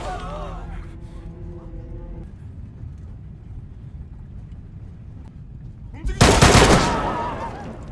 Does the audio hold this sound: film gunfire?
yes